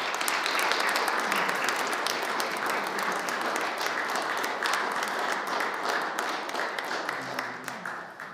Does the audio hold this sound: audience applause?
yes